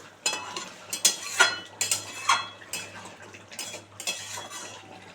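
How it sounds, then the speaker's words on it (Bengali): Potatoes being stirred in a cooking pan with a utensil, giving a series of scraping clinks and knocks at an irregular rhythm, close and moderately loud, with no talking. "একটু নেড়ে দিই আলু একটু সিদ্ধ হবে"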